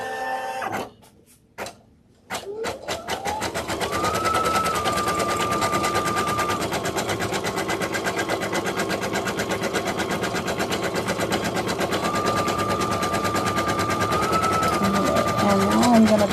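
An embroidery machine stitching a felt mask appliqué, starting with a few stuttering stops before settling into a loud, steady, rapid mechanical chatter of the needle that runs continuously close by.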